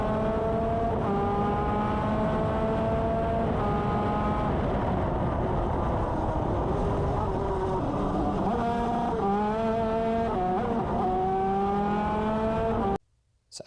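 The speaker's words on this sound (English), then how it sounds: "just want you to listen to the gear changes as we head into the first corner" A race car's engine revs hard and loud from onboard as it heads into the first corner, the pitch climbing and then dropping through several gear changes, with a downshift that slips and flares.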